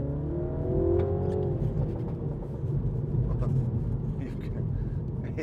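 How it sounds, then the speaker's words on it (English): A 2016 MINI Hatch John Cooper Works with a 2.0 engine accelerates through lower gears, its engine note droning steadily from inside the cabin, with faint crackling exhaust pops and a voice talking over it. "It's got the old machine gun fire after you accelerate."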